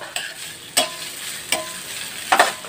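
Sliced ginger sizzles in hot cooking oil with a soft steady crackle, broken by several sharp stirring clatters of a utensil against the pan at irregular intervals.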